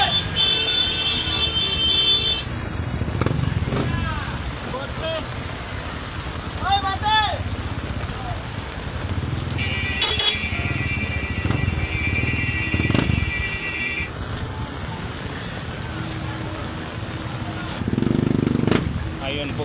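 Motorcycle engines rumble and buzz past at close range through a flooded market in Manila, amid busy outdoor bustle, with people talking over the traffic noise.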